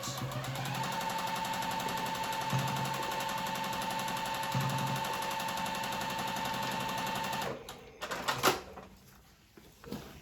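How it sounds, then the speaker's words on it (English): A sewing machine stitches fabric strips for paper piecing in a fast, steady mechanical rattle that runs for several seconds before stopping, followed by a few softer clicks and handling sounds. "Going to stitch, again, remembering the back stitch."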